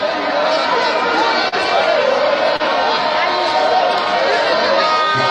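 A dense crowd of Biafran supporters gathers at Nnamdi Kanu's court case, their loud continuous chatter and shouting filling the space with no break.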